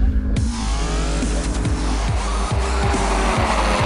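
An Abarth race car in the Trofeo Abarth series weaves on a cold Dijon track to warm its tyres, the engine droning loud and close throughout with repeated short tyre squeals and revving surges, no talk.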